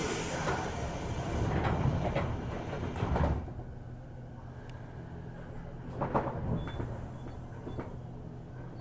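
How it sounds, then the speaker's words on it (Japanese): Doors of a Saikyo Line 205 series train sliding shut on a Japanese platform, with a loud clatter and rumble early on, then a quieter carriage hum and a few later knocks, no voices. "2番線ドアが閉まります。"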